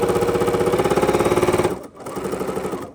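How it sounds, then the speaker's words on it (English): A Bernina 880 sewing machine stitches fast and loud in a rapid, even mechanical rattle that stops abruptly partway through, then gives way to a lower, quieter hum. "I just love how fast my 880 sews"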